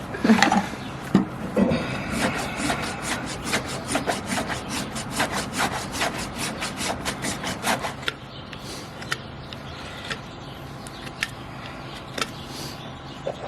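Close, rhythmic rasping strokes as a farrier cuts and twists at a nail in a donkey's hoof, fast regular scrapes that slow into sparser scraping and a few sharp clicks.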